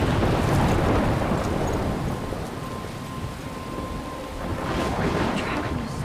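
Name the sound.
thunderstorm in video game Life Is Strange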